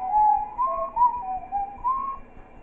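A character in the video game Baldi's School House whistles a short, wavering tune of several notes, clear and close, with nothing else heard.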